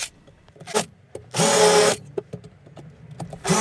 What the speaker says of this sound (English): I then screwed the box together using 30mm screws.